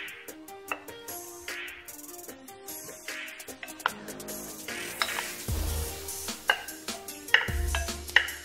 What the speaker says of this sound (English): Now I'm going to transfer them over into the mixing bowl.